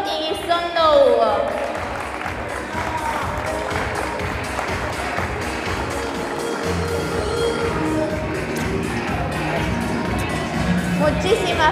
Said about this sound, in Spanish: les pido un aplauso muy, muy, muy grande para los campeones de cuarta categoría